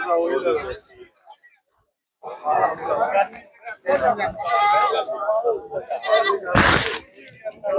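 Goats, including Beetal and Barbari breeds, bleat amid lively human chatter at an outdoor livestock market, with voices and animal calls overlapping and a sharp burst of noise near the end.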